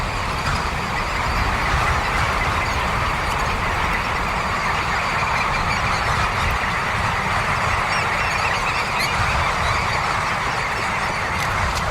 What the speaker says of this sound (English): All the birds are taking off.